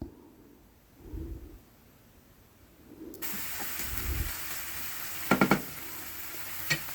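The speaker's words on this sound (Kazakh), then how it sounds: "Сәбізді көп қуыруға болмайды, кішкене азғана қуырамыз." Grated carrots are stirred in a hot pan, first giving a few soft scrapes, then breaking into a steady sizzling hiss with a couple of sharp clinks of the utensil against the pan.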